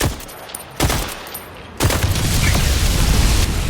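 Gunfire in the Borderlands 4 video game as a bomb is shot: a short burst of shots, then a loud booming blast that roars on to the end, with no voices over it.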